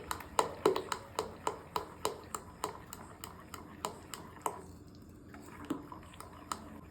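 Beetroot paste being mixed into batter by hand produces a regular series of wet squishing slaps at roughly half-second intervals. The slaps are moderately close, grow softer and sparser toward the end, and sit over faint background noise.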